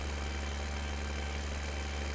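A vehicle engine in Landwirtschafts-Simulator 15 (Farming Simulator 15) holds a steady, low droning hum at constant cruise, continuous and even with no talk over it.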